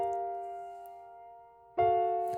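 MIDI piano chords in a thinned arrangement play back in Pro Tools: a held chord fades softly, then a new chord strikes more loudly and sustains.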